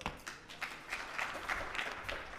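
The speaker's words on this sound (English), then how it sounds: "Ladies and gentlemen, round of applause." Applause from an audience at a summit session, a soft, fairly distant patter of clapping that holds steady for a couple of seconds with no speech over it.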